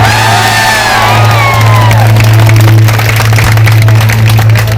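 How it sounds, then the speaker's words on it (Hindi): Loud crowd noise at a Nitin Dubey super night show in Raigarh, with cheering, whoops and shouts over clapping, heavily amplified with a droning hum and whistling tones early on. "वो जरा जोरदार ताली बजा के आशीर्वाद दें"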